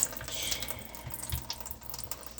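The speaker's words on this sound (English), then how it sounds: "Drain that bean water out." Water drains from an opened can of beans into a sink, making a continuous splashing trickle for a couple of seconds at moderate volume.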